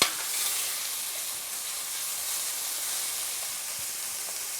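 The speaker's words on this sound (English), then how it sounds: "We give that a little stir." Veggie mince sizzles and fries steadily in a hot pan as it is stirred, a constant close hiss with faint scraping and no talk.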